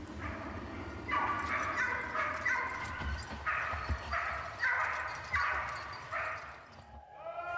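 Hunting pack of fox terriers and crossbred mongrel dogs on a wild boar drive in the Eure region of France, barking in repeated excited bursts with yelps, moderately close over outdoor background noise.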